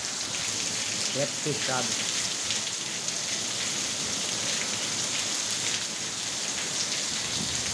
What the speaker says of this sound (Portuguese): Muita chuva aqui em Morada Nova nesse momento